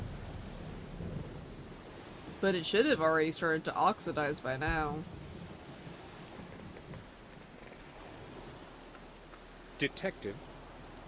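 Steady rain hiss from The Black Mirror video game runs as constant background ambience under two voices in conversation, with no distinct thunder rumble standing out.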